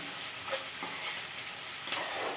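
Onion frying in a pan gives a steady, close hiss and sizzle with a couple of brief crackles or stirring scrapes, no talking.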